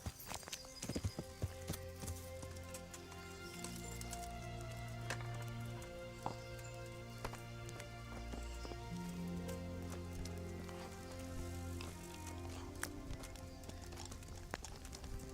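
Hooves of a horse clip-clop steadily at a walk in a video game, mixed with a soft rain-like ambience and low music, with no talk over it.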